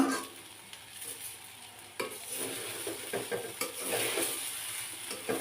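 Papaya bhaji being stirred in a pan: soft oily sizzling under repeated spoon scrapes and clinks against the metal, intermittent and close, growing busier after a sharp scrape partway through.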